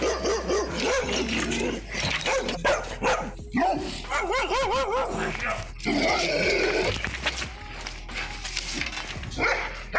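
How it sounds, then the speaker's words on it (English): Several angry dogs bark and snarl aggressively in a loud, dense burst, with growls, whines and yips mixed in and voices underneath. "Here are some examples of angry dogs."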